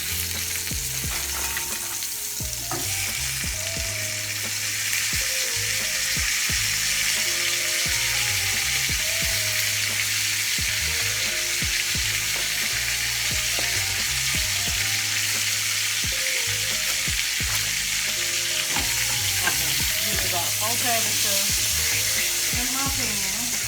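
Sausage patties brown in a pan with a steady, close sizzle and occasional stirring scrapes. Faint voices murmur underneath throughout.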